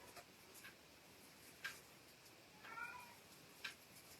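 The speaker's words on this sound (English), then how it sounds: "I apologize if you can hear the cat." A house cat meowing indoors, a couple of faint, short meows well in the background amid a few light clicks and taps, with no talking.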